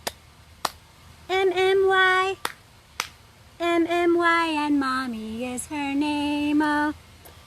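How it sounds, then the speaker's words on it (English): Two sharp hand claps ring out between sung lines of a children's song about Mommy, each a quick, close, loud crack standing apart from the steady melodic singing that fills the rest of the stretch. "Okay, 2 claps now."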